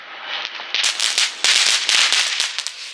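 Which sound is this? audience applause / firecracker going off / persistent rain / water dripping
firecracker going off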